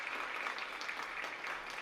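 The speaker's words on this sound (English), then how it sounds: "Big round of applause right there for that volunteer" Brief, soft applause from an audience welcoming a volunteer who comes up during a talk on character, a muffled, steady patter of clapping that sounds somewhat distant.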